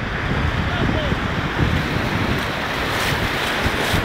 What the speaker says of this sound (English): Of course it's freezing! It's fucking Ireland! We're in the sea!